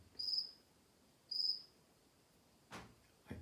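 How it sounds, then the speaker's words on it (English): Two short, high-pitched cricket chirps about a second apart, faint and alone in a quiet room, followed near the end by a couple of brief knocks or thumps. "The phantom cricket strikes again."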